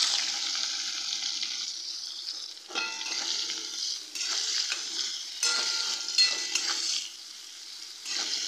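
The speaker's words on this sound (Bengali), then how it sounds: "এবারে এর মধ্যে দিয়ে দিচ্ছি গোটা জিরে। গোটা জিরেটা দিয়ে একটু নেড়েই আমি পেঁয়াজটা দিয়ে দেবো।" Whole cumin seeds and onion fry in hot oil in a pan for a Bihari-style egg curry, giving a loud, steady sizzle broken by several bursts of stirring and scraping, with no voices.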